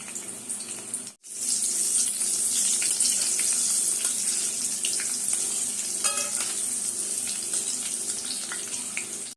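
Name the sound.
green chillies frying in oil for prawn pickle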